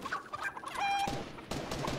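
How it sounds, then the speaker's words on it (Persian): Chickens clucking in the game Fortnite, short nearby clucks and squawks mixed with gunfire cracks and game noise, no voice. "وای وای این مرغا الان صداشون"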